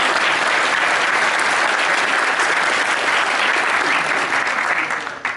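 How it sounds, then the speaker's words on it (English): A conference audience at the Tidy Towns National Conference gives a big round of applause, dense and steady clapping from many hands throughout, easing off slightly at the very end. "I'd like if you give yourselves a big round of applause for the work that you've done"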